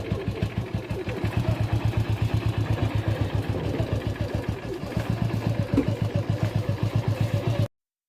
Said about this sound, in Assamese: তাৰপিছত বাইকখন ষ্টাৰ্ট দিয়া হ'ল